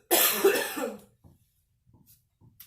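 A woman battling asthma gives one harsh, close cough burst, followed by a few faint breaths and small throat sounds in a quiet room.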